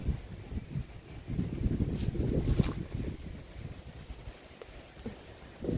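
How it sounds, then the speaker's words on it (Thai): Dry wind blows steadily across an open natural area during a foraging trip, a continuous rushing roar with gusty swells and no voices. "เสียงลมแห้งอู้อู้ผัดไปไหม"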